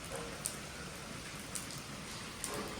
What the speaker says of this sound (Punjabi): ਇਹ ਹਲੇ ਤੱਕ ਮੀਂਹ ਦੇਖੋ ਪੂਰਾ ਪੈ ਰਿਹਾ ਹੈ ਨਾ